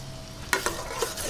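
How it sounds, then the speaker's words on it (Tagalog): Onions sautéing in oil, the base for creamy macaroni soup. A short stretch of soft sizzle is broken by a few quick stirring scrapes, close and moderately loud, with no talking. "Unahin ko po ngayon itong sibuyas para po hindi masunog yung ating bawang."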